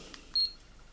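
Firefly 8SE action camera gives a single short, high electronic beep as its shutter button is pressed, quiet and alone.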